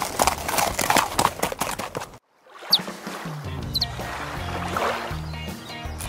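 A horse clip-clops along a trail at a summer camp, the hoofbeats close and steady over background music and ambience, with a brief drop to silence partway through.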